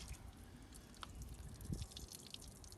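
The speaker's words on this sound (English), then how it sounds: "So now I am going to apply some water on this with the help of a mug." Water poured from a mug over an air conditioner unit during home cleaning, giving a faint wet splashing and dripping against a steady background hiss, with one brief heavier splash partway through.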